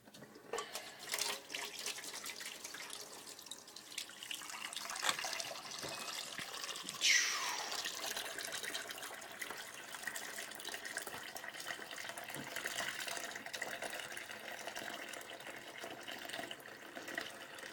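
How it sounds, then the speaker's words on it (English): Water runs steadily from a kitchen tap into a plugged sink, a continuous rushing hiss close by with no talking over it. "now I'm going to fill this up with water"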